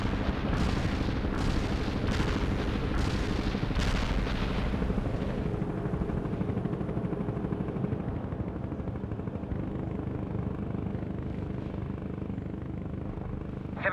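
Artillery barrage in the real-time strategy game World in Conflict, a rapid string of heavy booming impacts and gunfire that rolls into a dense, fading rumble.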